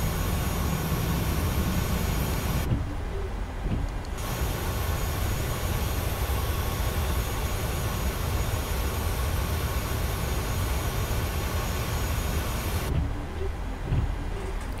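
Aircraft auxiliary power unit running in Microsoft Flight Simulator 2020, a steady loud whine and rumble held throughout with two brief dips.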